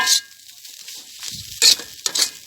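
Spicy field rat with fresh bird's-eye chilies is stir-fried in an aluminum pan, with loud, close sizzling bursts as the food is tossed and quieter gaps between them.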